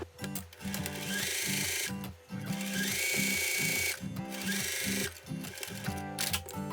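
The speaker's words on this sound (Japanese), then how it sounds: "ここに綺麗にアイロンがかけられたら、これがこう開いてこないようにこの際にステッチを入れていきます。" A sewing machine runs close and clear, topstitching along the edge of a pressed placket on a pair of loose cotton underpants. It plays in steady rhythmic bursts with brief pauses between runs, with no talking.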